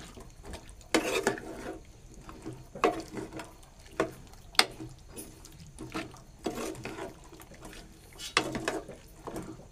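Cooked kidney beans (rajma) being stirred together in a pot for a rajma recipe, with a spoon scraping and clattering in short bursts, a quiet sizzle in the background between strokes.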